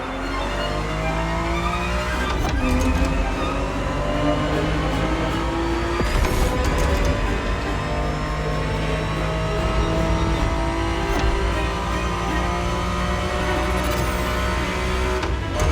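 Ferrari 365 GTB4 engine in the racing game The Crew Motorfest, a loud, continuous engine roar that rises and falls in pitch through gear changes, with no talking.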